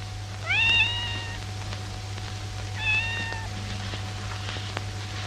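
A hungry cat meows twice, the first call longer and rising, the second shorter, clear and fairly close over a steady low hum, with quiet between the calls.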